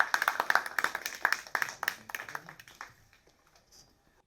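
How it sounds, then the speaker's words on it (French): A small audience at a school concert claps briskly, sharp close hand claps that thin out and fade away after a few seconds. "Applaudissements."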